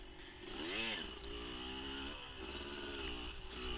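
An off-road motorcycle on a dirt race track accelerates under throttle, its engine note rising and falling in quick revving sweeps over a steady buzzing drone, heard close.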